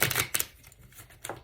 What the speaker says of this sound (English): so let me just shuffle it really good